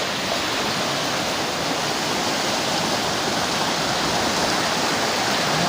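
Floodwater surges through a local area in a steady, loud, unbroken roar of broadband rushing that holds at the same level throughout, with no voices.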